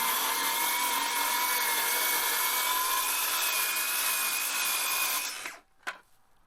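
A power saw rips a plywood straight-edge jig, a steady loud high whine running several seconds close up, then spinning down and stopping with a short clunk.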